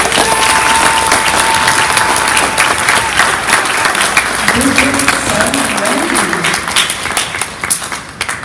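Sustained, fairly loud applause comes from an audience at a summer camp closing reading held in a school, while someone speaks briefly over the clapping.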